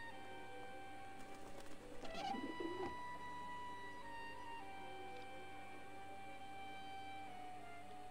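Pigeons coo in the video game Grim Fandango, a soft low burbling call around the middle, heard alone over a steady tonal game ambience.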